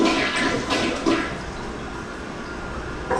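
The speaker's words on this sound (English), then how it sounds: "let me flush this one" A toilet flushing at a home with a backed-up main sewer line, a loud close rushing swirl of water that fades into a steady refill hiss.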